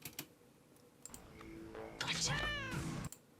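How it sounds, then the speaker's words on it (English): A stock cartoonish cat meow sound effect from a TV show, a single drawn-out, rising-and-falling mew heard clearly alone after a few faint clicks. "Stock cat noise."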